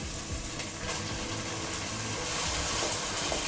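Tomatoes sizzle as they are added to a pot of Madurai-style chicken kuzhambu and stirred, giving a steady, close frying hiss with faint scraping and no voices.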